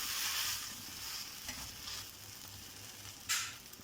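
Wheat-flour dosa cooking on a pan, a soft steady sizzle with a few brief scraping bursts as it is turned over, fairly quiet and without voices.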